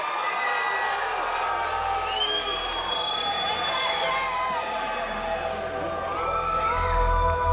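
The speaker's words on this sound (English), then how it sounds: "Nice big cheer, big welcome." A boxing crowd cheers and whoops to welcome undefeated fighter Jesse White, a sustained mid-distance roar with high whistles and shouts rising over it, while an announcer's voice carries through.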